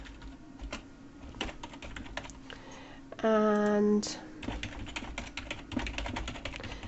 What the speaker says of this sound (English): I'm sorry if my typing is really loud.